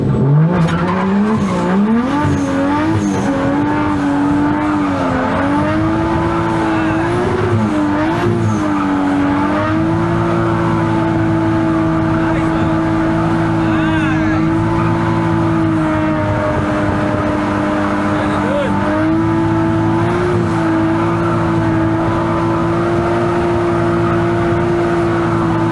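A Nissan R33 drifts, its engine droning and revving hard while the tires squeal and skid in long, sustained slides. The car stays close and loud the whole time, with no talk.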